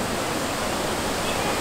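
Steady, full rush of the Trevi Fountain's water in Rome at night, an even close wash of splashing with no break or change in level.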